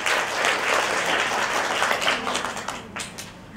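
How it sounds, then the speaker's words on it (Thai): Seminar attendees at a talk on jewelry e-commerce applaud the speaker in a dense, close round of clapping that holds steady before loosening into scattered claps near the end. "ต้องขอเสียงปรบมือให้กับวิทยากรอีกครั้งหนึ่งนะคะ"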